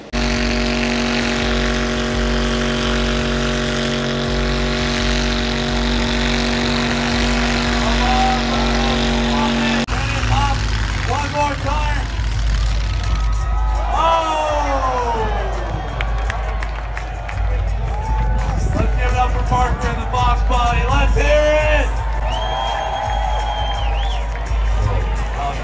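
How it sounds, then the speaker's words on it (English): A Ford Fox body Mustang holding a long burnout, its engine droning loud and steady before the crowd noise swells with cheering and voices over the continuing roar. "this Fox body, which had a really rough start, ended up doing a 4-minute burnout"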